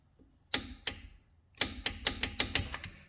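Sharp ratcheting clicks from a torque wrench tightening the rear differential drain plug on a Mitsubishi Evo 7–9 GTA, two single clicks followed by a quick run of clicks, close and clear.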